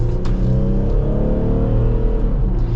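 A 2025 AEV Wrangler JL370 on 37-inch tires with 4.88 gears accelerates, its engine a steady, loud, close droning rumble that climbs gently in pitch with no one talking.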